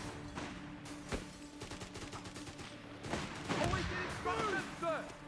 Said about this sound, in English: This is just regular grenades, yeah, rifle grenades.